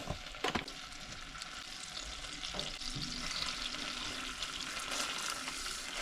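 Plant-based butter melting in a hot pan for an allergy-friendly chicken pot pie, a steady close sizzle and crackle running throughout with a brief clatter at the start.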